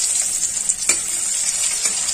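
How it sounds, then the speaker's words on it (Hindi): Chopped green chillies hit hot oil with reddened cumin seeds, giving a bright, continuous close sizzle with a few soft stirring scrapes through it. "जीरा थोड़ा सा लाल हो चुका है और इसमें हम डालेंगे कटी हुई हरी मिर्च"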